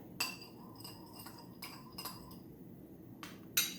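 A utensil stirring soapy water taps against a glass container, giving several light clinks spaced irregularly, faint and close in a quiet room.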